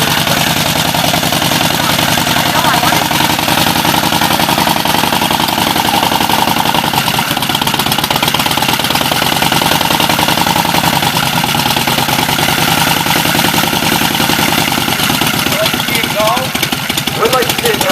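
A 1913 Excelsior V-twin motorcycle engine runs steadily throughout, a loud continuous mechanical rumble with knocking, and voices talk over it.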